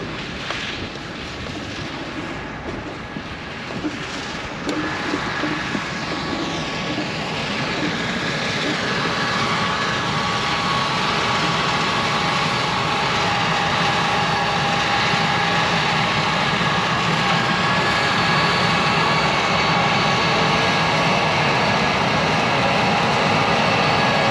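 A cotton picker harvester runs in a field, its engine a steady broadband drone that swells louder after the first few seconds and holds constant, with no talk.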